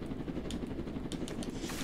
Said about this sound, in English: Shoot the helicopter!